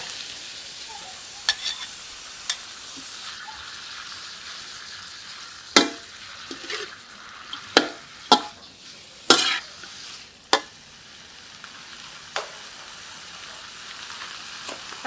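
Vegetable fern stir-fried with oyster sauce in a wok, a soft steady sizzle broken by sharp, irregular metal spatula clanks and scrapes, close and without talk.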